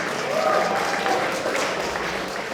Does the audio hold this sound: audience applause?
yes